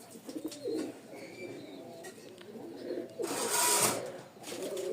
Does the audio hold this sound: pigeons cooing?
yes